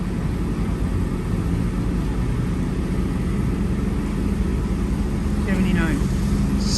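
A jet-powered funny car, a '65 Mustang or '69 Camaro body, roars down a drag strip in a loud, continuous, steady rumble, with a voice heard over it.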